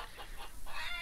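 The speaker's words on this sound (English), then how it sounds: "Chickens are loud." Chickens in the farm game Lumberjack's Dynasty cluck in a brief, loud burst of a few rapid hen calls over a steady ambient background.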